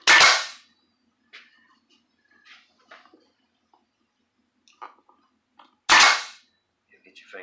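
A nail gun fires chisel point nails into a wooden nuc box: two sharp, loud close bangs several seconds apart, with faint clicks and a quiet voice between them.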